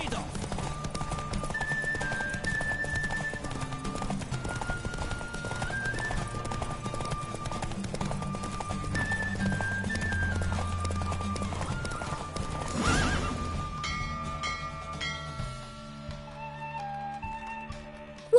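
Rapid clip-clop of a galloping horse in a race in the video game The Witcher 3: Wild Hunt, over game music, with a brief neigh partway through.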